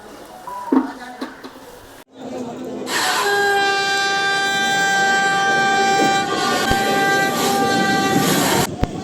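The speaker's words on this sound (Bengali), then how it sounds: "শিয়ালদা স্টেশন থেকে যে কোনো লোকাল ট্রেন ধরে তোমরা চলে আসতে পারবে এই খর্দা স্টেশনে" A local train at Khardah railway station rumbles past loudly and close, with a sustained, whining tonal hum and clattering wheels over steady noise. A person talks briefly at the start before the train drowns everything out.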